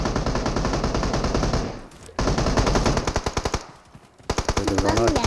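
Rapid automatic gunfire in a shooting video game, dense bursts of close, loud machine-gun fire with a short lull between them, under excited chatter from players.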